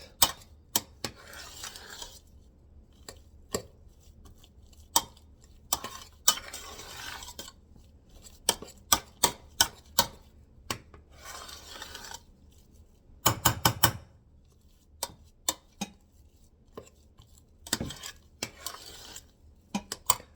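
Hungarian meatball (fasirt) mixture being stirred in a bowl with melting butter, spoon or utensil scraping and clinking in irregular sharp taps and bursts, close and fairly quiet with short pauses.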